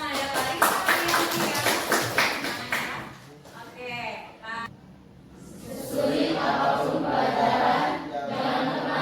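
Audience applause at an Indonesian teachers' jamboree session, a burst of clapping from the crowd that swells up, dips briefly, then returns more broadly, mixed with voices and hall noise.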